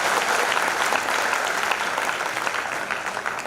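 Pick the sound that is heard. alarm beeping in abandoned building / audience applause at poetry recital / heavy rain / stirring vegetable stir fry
audience applause at poetry recital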